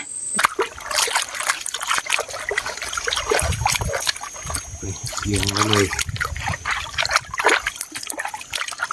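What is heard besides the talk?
water trickling while washing bamboo shoots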